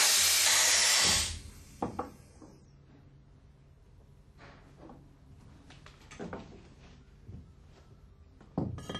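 Compressed air is released from an Alfa Laval valve in a loud, broad hiss lasting about a second, then cuts off, followed by quieter metallic clicks and handling knocks as maintenance continues.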